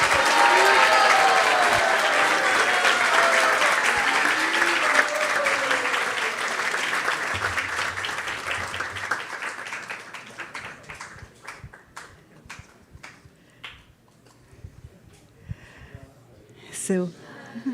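Loud, dense crowd applause at a religious celebration, mixed with cheering voices early on, gradually thinning into scattered individual claps that fade toward the end.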